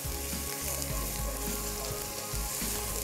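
Sarson ka saag, made of mustard greens with spinach, fenugreek and dill, fries in a pan with a steady, close hiss and crackle that never lets up, broken now and then by low knocks of stirring.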